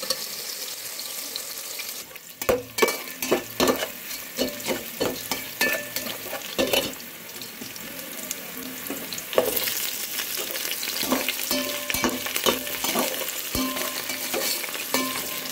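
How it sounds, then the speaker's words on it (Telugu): Onions frying golden in a pan for mutton biryani, a continuous sizzle broken by sharp scrapes and clatters of a stirring spoon, with no voices. "ఆనియన్స్ దోరగా వేపాలి"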